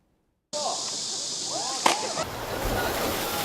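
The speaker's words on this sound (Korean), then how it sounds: "시원한 파도풀에 몸을 맡기며 더위를 잊습니다" Water splashes and rushes in a crowded outdoor water park wave pool on a hot summer day. A steady wash of churning water carries one sharp, louder splash, with busy background noise from the crowd.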